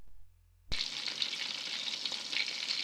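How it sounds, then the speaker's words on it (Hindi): Chicken pieces frying in a pan for a crispy fried chicken roast, a brief quiet moment and then a sudden bright hiss that settles into a steady, even sizzle. "अब हम दूसरी तरफ से इसको फ्राई करेंगे।"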